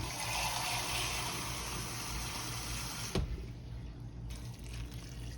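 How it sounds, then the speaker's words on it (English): Tap water pours steadily into an Instant Pot over creamer peas with pork neck bones, a loud continuous rushing fill that cuts off abruptly partway through, leaving a faint trickle and room hum. "I'm gonna put just enough water in here, y'all. Just enough to cover these peas."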